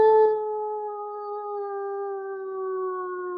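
A person imitates a wolf howl with their voice, one long sustained steady tone that holds for over three seconds, clear and close with no other sounds.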